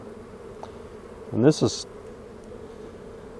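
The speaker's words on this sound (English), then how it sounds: "tell me there ain't a lot of bees in this hive" Honey bees fill a crowded hive during a swarm follow-up with a continuous low, steady hum. Someone speaks briefly over it, and a short rustle or handling noise comes close to the microphone partway through.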